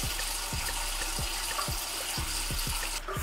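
Tap water running steadily close by while cleansing gel is rinsed off a face, with faint rhythmic splashing from hands throughout.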